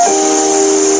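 A voice imitates a hiss, pushing a steady sibilant "s" through closed teeth for about a second. It is close, loud and even.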